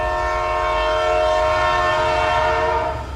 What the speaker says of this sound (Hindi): आधी रात करीब 12 बजे रवि ने दूर से ट्रेन की सीटी सुनी।